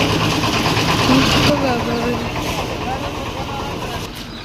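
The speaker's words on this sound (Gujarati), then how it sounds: "આ છે અમારું ટ્રેક્ટર" A 735 FE farm tractor runs at a steady engine drone out in a field, with people talking loudly over the engine noise.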